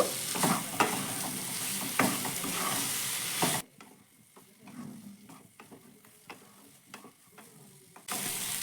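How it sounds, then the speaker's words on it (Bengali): Fried soybeans are stir-fried with masala, a dense sizzle with spatula scrapes that drops suddenly quieter midway, leaving softer stirring clicks before the louder frying returns. "সয়াবিনটা দেওয়ার পর মশলার সঙ্গে ভালো করে মিশিয়ে আরও এক মিনিট মতো কষিয়ে নেব"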